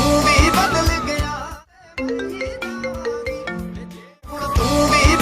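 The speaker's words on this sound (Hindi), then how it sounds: "किसका फोन था" A mobile phone ringtone plays a bright melody of clear, stepped electronic tones for about two seconds, breaking into the middle of a Punjabi-style song that plays loudly before and after it.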